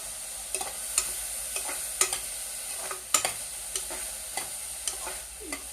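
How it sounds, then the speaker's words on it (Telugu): Onions and green chillies frying in a pan with ginger-garlic paste, a steady soft sizzle broken by repeated sharp scrapes and clinks of a stirring spoon against the pan, close up and with no talking. "ఇలా ఉల్లిపాయలు పచ్చిమిరకాయలు వేయించినప్పుడు కొంచెం అల్లం వెల్లుల్లి పేస్ట్ చేస్తాను లైట్గా"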